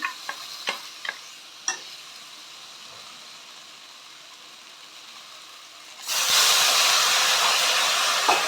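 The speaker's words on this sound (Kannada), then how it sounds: "ರುಬ್ಬಿಟ್ಕೊಂಡು ಮಸಾಲೆ ಹಾಕ್ತಾಯಿದ್ದೀನಿ" Ground masala paste hits a hot pan with a loud, steady sizzle and hiss that swells suddenly partway through, after a stretch of quiet scraping and a few sharp clinks of stirring.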